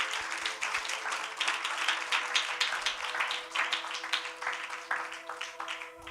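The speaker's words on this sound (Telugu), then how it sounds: "గట్టిగా చప్పట్లు దేవునికి స్తోత్రం చేద్దాం" A church congregation clapping together in sustained, lively applause during worship, a dense crackle of many hands continuing for several seconds, heard from within the room.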